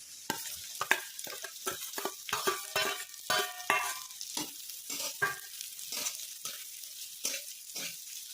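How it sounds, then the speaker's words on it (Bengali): Chopped onion frying lightly in a pan for chire pulao, giving a soft sizzle under sharp scraping clicks as it is stirred at an uneven rhythm, close up and with no voices. "এবার পেঁয়াজটাকে হালকা করে ভেজে নেব।"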